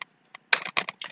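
Quick, close taps on a computer keyboard as a git config command is typed, a short irregular run of keystrokes with small gaps.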